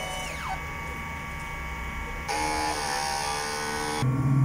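A DTF printer running a print head cleaning cycle, with a steady mechanical whir and hum, a gliding pitch sweep early on, and abrupt shifts as pumps and motors switch stages, close and continuous.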